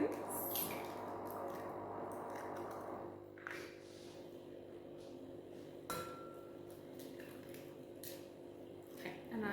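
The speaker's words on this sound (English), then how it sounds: "in my mixing bowl, I am going to crack in 3 eggs" Three eggs cracked into a mixing bowl, making a few sharp taps and clinks against the bowl's rim with soft wet drops in between, close and fairly quiet.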